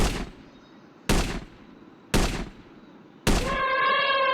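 Gunfire in a shooting video game, four separate loud shots spaced about a second apart, each a sharp crack with a short decaying tail, the last followed by a ringing electronic tone.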